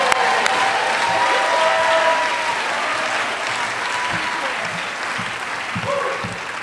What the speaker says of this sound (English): please give a big round of applause for George Shaw